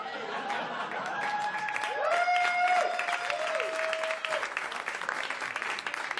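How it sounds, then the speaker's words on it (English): Applause and murmuring from a comedy audience at a stand-up show after a joke. Clapping and chatter mix with a few tonal voices or chuckles, swell in the middle, and then trail off into scattered claps. "Big applause break there"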